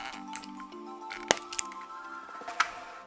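Soft plastic creaks and a few sharp cracks as a small toilet-shaped plastic candy container is pried open, close and quiet.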